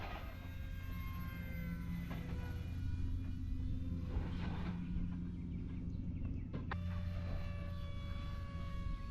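A small OMP Hobby T720 RC plane flies outdoors on a windy day, its electric motor a steady buzzing drone that swells and fades as it passes, with wind noise throughout.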